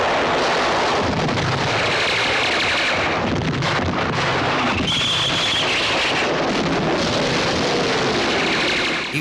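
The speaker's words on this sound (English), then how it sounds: "It was just a giant wave of roaring war noises, explosions, screaming, footsteps, gunshots." War film battle sound effects of gunfire and explosions form a dense, continuous roaring wall of noise with sharp bursts and rumbling blasts, loud throughout with no speech.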